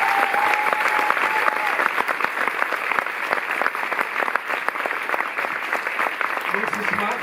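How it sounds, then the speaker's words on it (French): A crowd at a presentation evening at the Cabaret Sauvage in Paris applauds in a sustained, crackling wave of many hands, with a voice briefly heard at the start and end. "Donc merci à Gaël Faye, on l'applaudit encore une fois"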